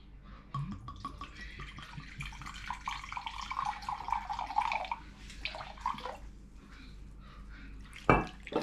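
Cane vinegar pours in a steady trickling stream while preparing Filipino chicken adobo, a soft liquid splash running for several seconds, with a sharper clink near the end.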